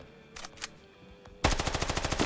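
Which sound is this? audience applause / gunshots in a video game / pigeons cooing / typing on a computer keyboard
gunshots in a video game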